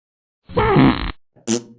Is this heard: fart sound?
yes